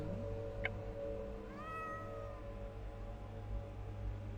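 A cat meows in the point-and-click adventure game The Excavation of Hob's Barrow, one drawn-out rising and falling meow over a low steady ambient hum, with a faint tick just before it.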